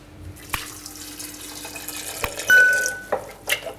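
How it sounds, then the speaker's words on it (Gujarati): Water runs from a tap and splashes into a vessel of washed soya chunks with salt, a short pouring stream among nearby clinks and knocks in a quiet kitchen. "આ રીતે આપણે પાણી નાખવાનું છે"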